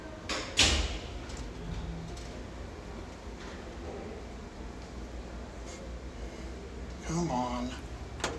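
A Garaventa Elvoron elevator car door slides with a short rumbling clunk at the start and another movement near the end, while people talk nearby.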